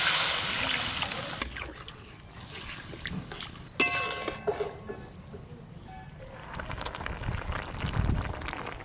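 Water is poured into a pan of egg curry with onions cooking on an earthen clay stove, a soft trickling splash near the start followed by a faint metallic clink and quieter bubbling.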